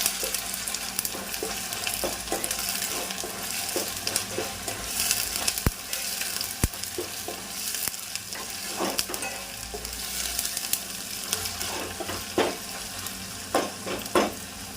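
Ginger garlic paste sizzles in a pan for a brinjal, potato and tomato curry, with repeated spoon scrapes and light metallic clinks against the pan over a steady frying hiss.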